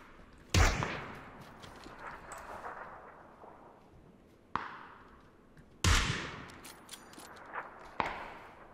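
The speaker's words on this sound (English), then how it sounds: "Who are you shooting at?" Gunfire in PUBG on the Erangel map, a few loud isolated shots spaced seconds apart with quieter distant cracks between them.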